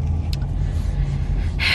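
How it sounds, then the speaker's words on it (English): Steady road rumble from inside a car stuck in bumper-to-bumper traffic, a constant low engine and tyre drone with a faint swish near the end. "There's a lot of traffic."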